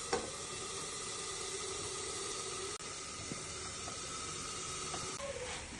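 Onion, tomato and green chili sauté in a hot pan, producing a steady, close sizzling hiss throughout with a couple of faint clicks from the utensil or pan.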